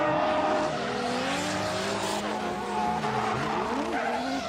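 A Nissan S15 drift car from the Good Ride Team Tops Racing Project U skids through a Formula Drift Japan qualifying run at Ebisu, engine roaring with rising and falling revs over continuous tire squeal, loud and close throughout.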